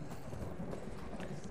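Steady clip-clop of a horse's hooves in the fantasy game Skyrim, a continuous run of hoofbeats at moderate loudness over a dense background.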